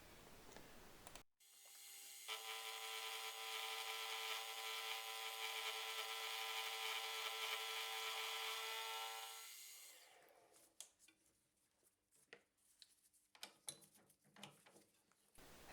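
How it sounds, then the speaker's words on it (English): A milling machine cuts metal bike adjusters in a workshop, giving a steady, loud whining cut with a tonal hum that lasts several seconds, then stops and gives way to scattered clicks and handling noises. "That's all the milling done on both the adjusters."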